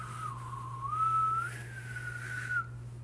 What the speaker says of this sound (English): You can hear the whistle in there.